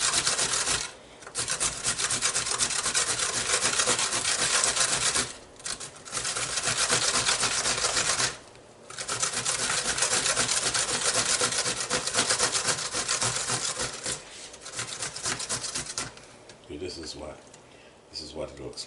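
Cucumber being grated by hand on a grater, rapid rhythmic rasping strokes in close bursts separated by short pauses, with someone talking over part of it.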